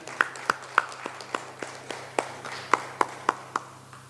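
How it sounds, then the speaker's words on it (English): Sparse, evenly spaced hand claps sound at a church service to welcome a speaker on stage, about a dozen sharp claps in a steady rhythm against a faint background hum. "Let us give a warm welcome by clapping our hands."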